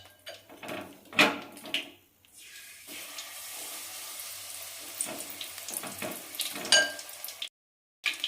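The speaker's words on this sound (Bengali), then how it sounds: "বাকি মাশরুমগুলো আবার আমি ভেজে নিয়ে ফেরত আসছি" Mushrooms fry in a pan with an uneven, bubbling sizzle that swells and fades, along with a few louder stirring bursts and a brief silence near the end.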